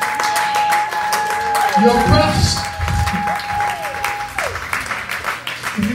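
Audience at a live poetry and comedy show claps and cheers in a steady wash while an MC talks loudly over the mic, with some voices and whoops rising in the crowd.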